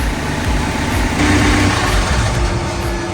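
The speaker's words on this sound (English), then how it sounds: "The engine starts." A houseboat's engine runs steadily with a loud, constant low rumble and no pauses or voices.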